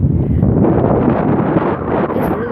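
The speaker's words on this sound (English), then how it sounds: "It's really windy." Strong wind gusts across an open hillside cemetery, a loud steady roar with heavy buffeting against the microphone throughout and no voices.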